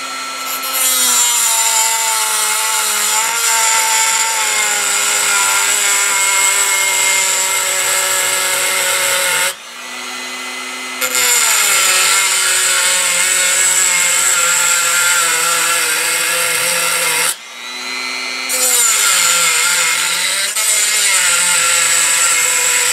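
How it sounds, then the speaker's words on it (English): A Dremel rotary tool slices through an AK-47 quad rail in long, loud, high-pitched whining cuts, pausing briefly twice before grinding on again, with no talk. "We just get a Dremel. And we just basically slice those two pieces off."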